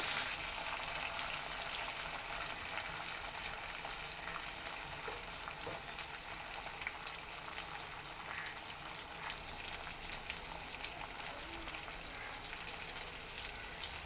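Green chillies, chopped onions, cumin and curry leaves frying in hot oil, a steady dense sizzle that holds at an even level throughout, with faint stirring scrapes mixed in and no voices.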